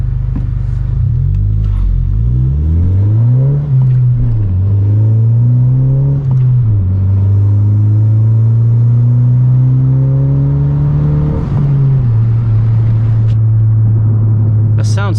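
A 2020 Honda Civic Si fitted with an aftermarket downpipe accelerates from a stop, its close, loud engine rumble rising and falling through several revs before settling into a steady drone with another shift near twelve seconds.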